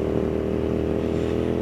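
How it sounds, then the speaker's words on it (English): Hyosung GT650 motorcycle engine braking after the throttle is closed, a steady close, loud low engine drone holding evenly throughout with no talk. "you've let off the throttle, engine braking."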